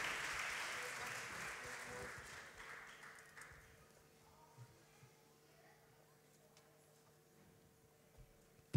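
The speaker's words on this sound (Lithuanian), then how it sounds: "Plokit tol, kol neusikabins saksofoną." Applause from an audience at a Lithuanian farming event, loud at first and then thinning out over several seconds into sparse claps and faint room noise.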